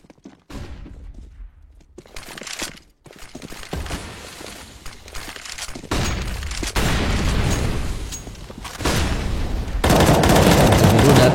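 Rapid gunfire and wallbang shots through walls in a CS:GO match on the Cache map during an online esports tournament, loud bursts and booms building toward dense continuous firing, with brief quieter gaps between volleys.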